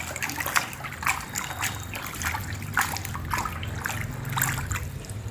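Two spoonfuls of salt stirred into plain water, giving a steady close trickling and sloshing with soft splashes repeating throughout, no voices.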